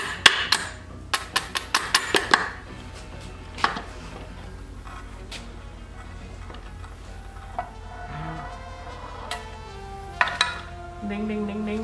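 Sharp taps and knocks from a rawhide hammer on metal ring out in quick bursts, then scatter sparsely over a quiet background with a few clinking sounds, during a Wheel Horse garden tractor restoration with needle bearings.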